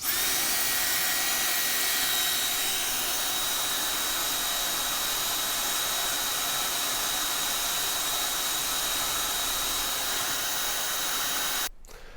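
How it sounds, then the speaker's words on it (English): Dyson V10 cordless vacuum cleaner running with a loud, steady high-pitched whine and airy rush, close and continuous for about eleven seconds before cutting off sharply. "despite the Dyson V10 having much less suction, it is much louder than the Dyson Gen 5 Detect"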